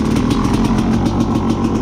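A Rieju MR300 enduro dirt bike engine runs with a loud, close, rapid and slightly uneven putter, steady throughout without any talk.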